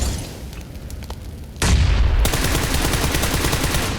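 In the PUBG battle royale game, a sudden loud grenade blast bursts in after a stretch of faint background, followed by a dense, sustained crackle of noise from gunfire and explosion debris.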